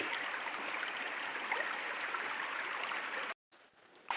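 Steady rushing river water flows continuously with a broad, even hiss, then cuts out abruptly near the end before a faint return.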